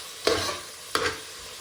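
Cinnamon, cloves, bay leaf and stone flower fry in hot ghee in a pan. A steady sizzle is broken by two distinct stirring scrapes, close and clear, with no talking.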